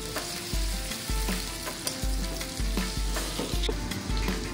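Onion and dried red chili frying in hot oil, a close, steady sizzle broken by regular thuds of a spatula stirring the pan, with no one talking.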